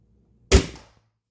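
A single sharp shot from an EK Archery RX Cobra Adder repeating crossbow aimed at a target's center, one quick loud snap with a brief decaying ring, otherwise quiet.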